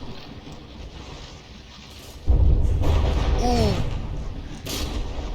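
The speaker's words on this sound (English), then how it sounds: "Big old cluster of explosive shells landing on this central turret here" Explosive shells from a cluster strike a battleship's central turret in From the Depths, a sudden heavy boom followed by a sustained rumbling roar, with a brief exclamation from a voice.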